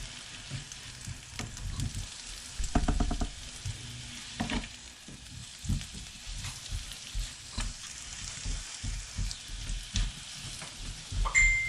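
Bananas caramelise in a pan with a steady close sizzle and frying crackle, broken by soft stirring and shuffling sounds, with no voices.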